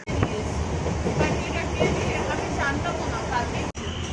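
A train at a railway station rumbles loudly and steadily, with a dense clatter of wagons and machinery and a brief sharp click near the end; indistinct voices may be mixed into the noise.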